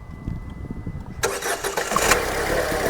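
A Ford EcoSport that has sat unused for two to two and a half years cranks over for about a second, then catches and fires up into a loud, steady running roar, close by.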